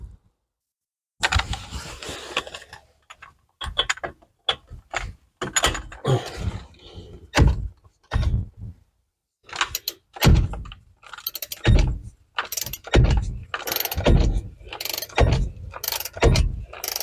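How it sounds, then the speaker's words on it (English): A power ratchet spins in short repeated bursts while tightening large bolts on the rear brakes of a Porsche 996 Turbo, each burst followed by clicks and knocks of tool handling, close and fairly loud. "I can get the power ratchet on it"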